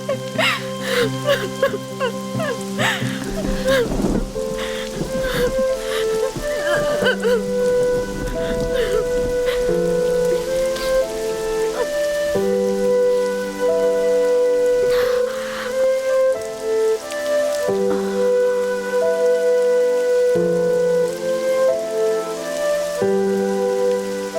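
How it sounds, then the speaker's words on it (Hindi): Steady rain pouring down with a rumble of thunder, sustained and fairly loud beneath a swelling film music score with tonal melody lines. "बारिश हो रही है बेटा"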